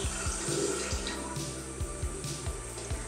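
Tap water runs steadily into a sink while a makeup brush is wetted under the stream, with a continuous splashing rush and soft rhythmic knocks underneath.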